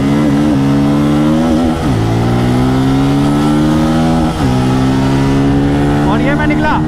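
Pulsar N250 and KTM RC200 motorcycles accelerating hard side by side in a drag race, loud engine drone climbing in pitch with gear shifts around two and four seconds, while someone speaks over it.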